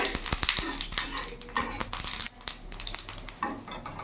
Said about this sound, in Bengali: জিরেটা একটু ভাজা ভাজা হবে